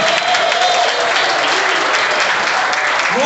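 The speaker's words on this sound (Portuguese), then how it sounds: "Dê uma salva de palmas para Jesus." A church congregation at an Assemblies of God convention in Teresina breaks into loud, dense applause, a sustained wash of clapping filling the hall with a few voices faintly mixed in.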